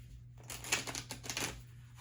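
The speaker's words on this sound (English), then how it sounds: "sometimes I just am kind of guided to just shuffle these cards again." Tarot cards being shuffled by hand, a soft papery riffling and patter in a quick burst of several flicks, close and fairly quiet over a low steady hum.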